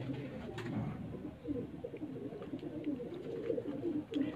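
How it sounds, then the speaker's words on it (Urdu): Breeder pigeons coo steadily from a rooftop loft in Punjab, a soft, continuous low burbling that stays close and moderately loud, with a few faint higher clicks and no talk. "یہ جی دوستو میں اس چیمپئن کبوتر کا باپ دکھا رہا ہوں"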